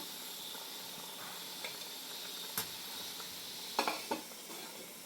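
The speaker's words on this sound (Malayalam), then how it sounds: "അപ്പോൾ നമ്മുടെ കറി നല്ല പോലെ തിളച്ച് വന്നിട്ടുണ്ട്" A quiet, steady simmering hiss from a pot of chicken curry boiling, with a few sharp clinks and scrapes of stirring near the end.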